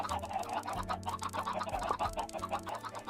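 Video game chickens clucking in a soft, rhythmic stream of short calls over a steady looping background tone, with no talking.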